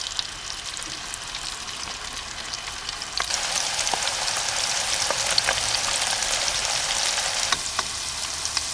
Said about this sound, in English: the oil is nice and warm and hot. Time to put in the calamari